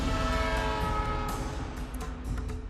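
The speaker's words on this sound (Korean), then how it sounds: "기차가 갑자기 속도를 늦춥니다" A train on the Death Railway in Thailand slowing down as it nears a cliff section, a steady loud rumble of wheels and cars with a sustained horn-like tone throughout.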